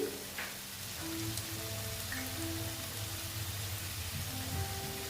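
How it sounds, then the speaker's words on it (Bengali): Pabda fish frying lightly in oil in a pan, a steady hiss and crackle like rain, with faint kitchen tones and clinks over it. "পাবদা মাছ দেখো অল্প ভেজে নিচ্ছি"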